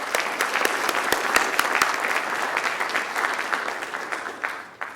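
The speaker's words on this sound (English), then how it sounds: "Big round of applause for all these people." An audience at a Veterans Day tribute at Drexel applauds with steady, moderately dense clapping and sharp individual hand claps standing out, fading slightly toward the end.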